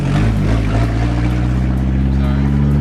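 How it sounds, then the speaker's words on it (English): A Toyota RAV4 engine with a diesel-like sound runs steadily, loud and close, with a deep low rumble throughout while a voice talks over it. "with our diesel sounding Rav4"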